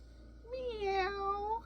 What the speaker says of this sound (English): "Meow," said Ginger